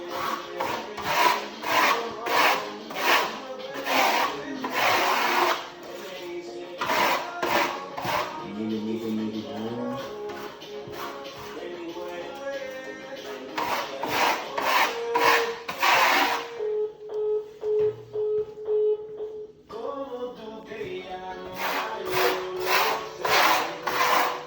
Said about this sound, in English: when it starts drying more, I'll come back with my burnishing trowel